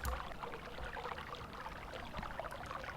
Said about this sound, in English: a microphone picking up some running water.